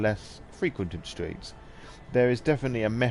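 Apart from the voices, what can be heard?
None of the usual background noises is heard.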